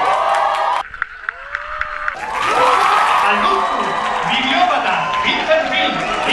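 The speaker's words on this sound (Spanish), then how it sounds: "os dejo un fragmento de aplausos a diferentes personas" Crowd applauding and cheering at a Google+ Christmas party, sustained clapping with whoops, loud and close, with people talking through it.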